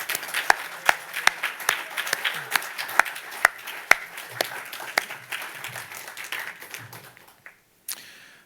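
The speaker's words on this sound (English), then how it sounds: "can I have everybody please give a big applause to any of our award winners tonight?" At the Cliff Bellamy Awards 2023 ceremony, an audience applauds award winners with sharp, loud individual claps over a thinner spread of clapping, tapering off near the end before one last clap.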